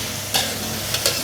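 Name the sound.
stir-frying prawns in a wok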